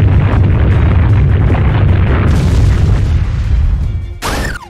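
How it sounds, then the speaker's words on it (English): A heavy rumbling boom from an Earthquake attack in the Manamon video game roars loudly and continuously for several seconds, then cuts to a brief rising synthetic tone. "Earthquake."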